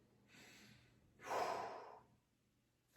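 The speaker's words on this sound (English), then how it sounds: "You're going to breathe in." A person draws a deep breath in while holding a tight back stretch, a soft airy rush that swells and fades over about a second, preceded by a quieter breath, with no talking.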